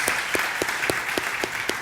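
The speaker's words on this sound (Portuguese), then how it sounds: "Vocês já deram uma salva de palmas para eles?" A church congregation applauds in a steady wash of clapping, with louder rhythmic claps standing out at regular intervals near the front.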